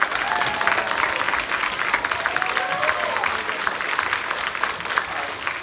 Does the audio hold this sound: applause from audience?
yes